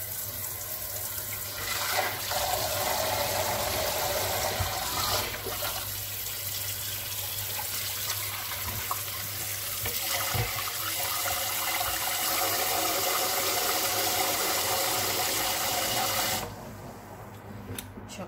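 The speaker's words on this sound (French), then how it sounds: "Je vais rajouter de l'eau et le vinaigre pour une seconde fois." Water running steadily into a container over cleaned fish, a continuous splashing flow lasting many seconds before stopping abruptly near the end.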